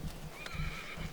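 Horse neighing at a forest camp, a single brief whinny with a wavering, rising and falling call, fairly faint over low outdoor background noise.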